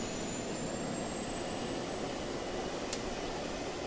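A jet airplane engine in the video game Just Cause 2 roars as a steady, even drone, with one brief faint click near the end.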